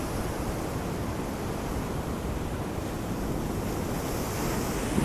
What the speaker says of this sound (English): Big wet waves.